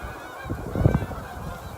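Geese honk in a short burst of overlapping calls from a flock outdoors, rising to a peak midway and trailing off, with no talk.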